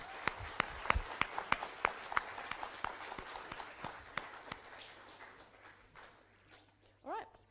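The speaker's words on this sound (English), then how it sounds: "So please give them a big round of applause." Scattered applause from a school audience after a student research presentation, individual claps sharp and uneven, thinning out and fading toward the end.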